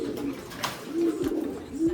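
Pigeons coo repeatedly at feeding time, low rolling calls close by with a faint rustle of activity around them and no talking.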